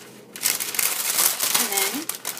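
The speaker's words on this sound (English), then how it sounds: "put a piece of parchment paper down on top" Parchment paper crinkles and rustles in bursts as a paleo pizza crust is flipped in a kitchen, close and fairly loud, with someone talking over part of it.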